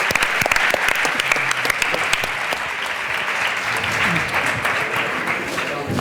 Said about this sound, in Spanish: vamos a despedir a nuestros invitados con un fuerte aplauso